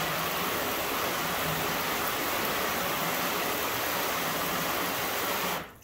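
A car is rinsed with a hose, a steady loud hiss of spraying water pouring continuously onto the bodywork before cutting off abruptly at the end.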